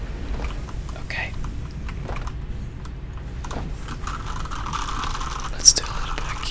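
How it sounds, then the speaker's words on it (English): A computer keyboard is typed on lightly and irregularly in a quiet ASMR setting during a Satisfactory factory-building session, with soft scattered clicks under low whispering and one sharper tap near the end. "Let's do a little bit of keyboard sounds"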